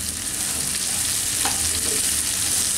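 Onion and chopped capsicum fry in a pan with a steady, close sizzle and crackle throughout, stirred now and then.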